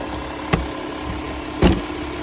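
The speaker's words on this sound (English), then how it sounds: "These are one of the intercoolers also leaking there." An Audi Q7 engine idles steadily up close with a continuous airy hiss from a leaking intercooler, interrupted by two brief louder knocks or thumps, with no talk.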